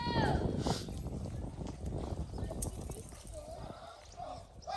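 Horse hooves clop in a video game over a busy background, with a brief whinny-like cry at the start and a voice speaking faintly under the sound.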